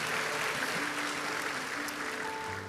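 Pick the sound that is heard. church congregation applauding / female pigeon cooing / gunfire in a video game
church congregation applauding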